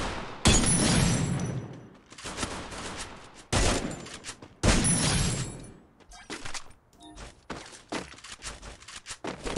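Pistol fire in the mobile battle royale game Free Fire: a string of loud, close shots in irregular bursts with brief gaps, the later ones sharper and quicker.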